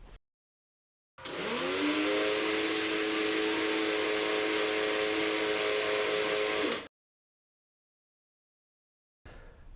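A power drill whirs steadily for about six seconds, spinning 40 gauge wire to make a coil, starting abruptly and stopping cleanly, with silence before and after.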